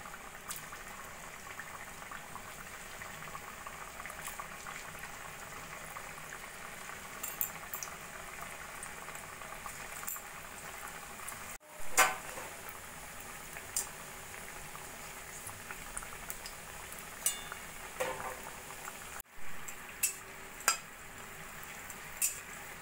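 Potato chips deep-frying in hot oil in a wok, a steady bubbling hiss with occasional sharper pops and faint stirring, fairly quiet and without speech.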